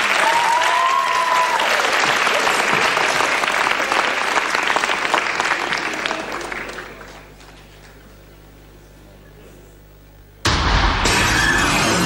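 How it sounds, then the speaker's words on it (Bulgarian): Loud, dense audience applause at a live comedy show fills the first half, then fades into a quiet lull before a sudden loud burst of noise returns near the end. "Аплодисменти за именичката днес."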